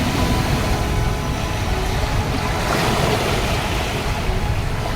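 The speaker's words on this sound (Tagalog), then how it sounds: "Nandito tayo sa dalampasigan ng tabing dagat." Sea waves wash onto a beach at high tide in the early afternoon, a loud continuous roar of surf with wind buffeting close to the microphone and no talk.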